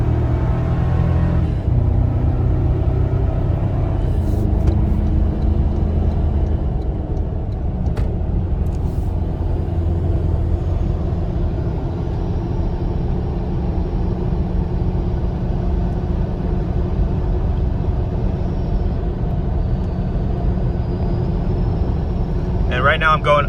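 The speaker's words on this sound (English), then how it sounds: "so I can hear the turbo going" A 6th generation Toyota 4Runner on 38-inch tires, climbing uphill, makes a loud, steady low engine rumble with a faint rising turbo whine under it, heard from inside the cabin while a person talks over it.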